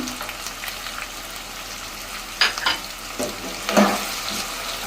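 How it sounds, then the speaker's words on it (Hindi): Tomatoes and green chilies fry in hot oil for daal mash, giving a steady close sizzle and hiss with a few louder stirring scrapes partway through. "और थोड़ा फ्राई करेंगे दो मिनट के लिए"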